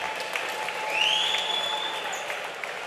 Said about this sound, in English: how about a round of applause for both of these battle-tested veterans